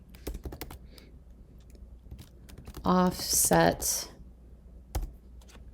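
Computer keys tap in scattered, quick clicks close by, with someone speaking briefly in the middle and a few more taps after.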